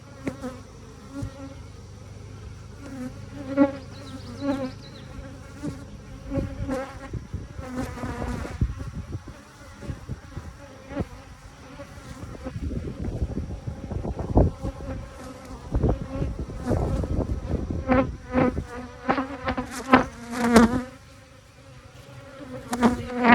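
Honeybees buzzing around an open hive in close detail, a steady droning hum with individual bees swelling louder as they pass near, continuous throughout with no talking.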